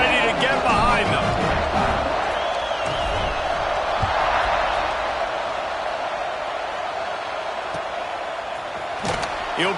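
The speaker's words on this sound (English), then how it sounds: "this crowd now ready to get behind them" A stadium crowd in the College Football 26 video game roars steadily at a kickoff, a loud continuous wash of cheering with a commentator talking over it.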